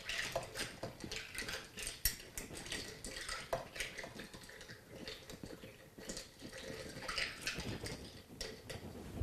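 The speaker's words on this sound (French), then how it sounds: "Nous allons mélanger notre mojito." A mojito cocktail being stirred in a glass, with light clinking of a spoon or ice against the sides in quick irregular taps, faint and close.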